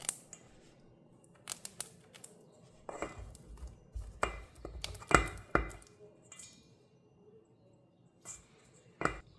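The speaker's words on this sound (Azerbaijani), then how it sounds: "Onu una bulayaraq tiyorkadan keçirdirəm." Cold butter coated in flour is pushed across a grater in a few short, rasping strokes, spaced irregularly with quiet gaps, close and fairly soft.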